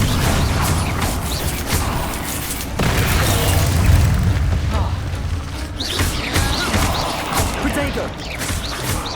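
The Expelliarmus spell is cast in the video game Hogwarts Legacy with booming magical bursts, mechanical creaks and crashing impacts over several seconds, alongside a voice calling out spells.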